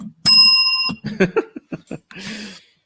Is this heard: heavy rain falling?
no